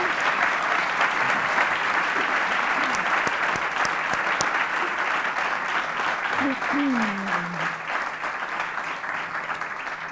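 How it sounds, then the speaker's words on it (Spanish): Audience applause for two guest speakers after a radio conversation about the book Efecto Red 2025, a dense, steady wash of clapping across the full length, with a voice briefly heard beneath it. "démosle un aplauso a nuestros dos expositores de hoy"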